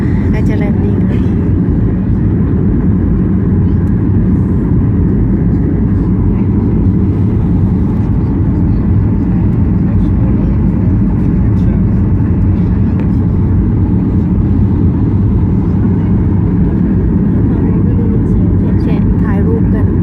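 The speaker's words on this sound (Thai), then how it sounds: "ใกล้แล้วค่ะใกล้จะแลนดิ้งแล้ว" Steady, loud broadband roar of an airliner cabin while the plane descends toward landing in Venice, Italy, continuous and unchanging throughout with faint voices beneath it.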